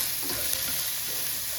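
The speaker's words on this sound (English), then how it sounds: "Put the onions and the peppers in." Onions and peppers sizzle steadily in a hot pan while being stirred, a continuous close frying hiss with faint scraping, no voices.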